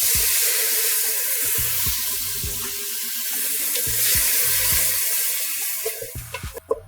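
White wine poured into a hot pan of toasting barley sets off a loud, continuous hiss and sizzle up close, tapering into sputtering pops and crackles as the liquid settles.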